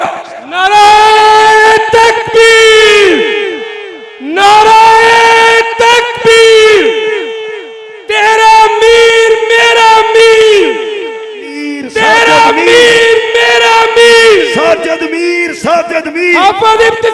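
A large crowd at a Pakistani religious gathering chants back in unison to a Takbir slogan. Four loud, sustained collective shouts rise and fall in a steady call-and-response rhythm, separated by brief pauses.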